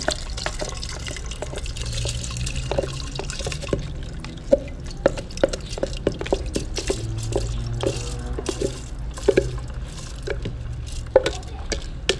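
Evaporated milk poured into a pot of rice, soft liquid splashing and dripping with small wet clicks and clatter, fairly quiet and steady, no speech.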